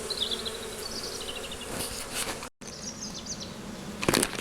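Close, steady buzzing of many honeybees at an opened hive, a continuous drone with a few high chirps and a brief dropout midway.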